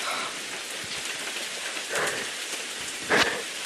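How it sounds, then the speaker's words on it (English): A steady downpour of rain hisses throughout a stormy scene in a stage musical, with two rumbling thunder bursts rising out of it, the second one louder. "we're off the path and in a storm"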